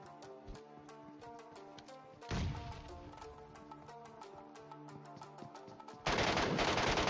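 Rapid MK rifle fire from a battle royale video game, a steady stream of sharp shots layered over a game music bed, with two louder bursts of blast noise breaking in partway through and at the end.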